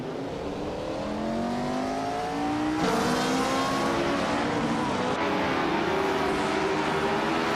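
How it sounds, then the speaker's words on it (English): A 1962 Lola Mark IV Climax race car engine in a racing video game, loud steady high-revving whine with rising gear sweeps, an abrupt shift near the middle and continued full-throttle drone, no talk. "Papa Casey is driving a 1962 Lola Mark IV Climax, currently holding 2nd place"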